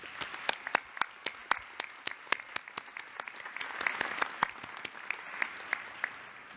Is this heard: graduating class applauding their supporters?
yes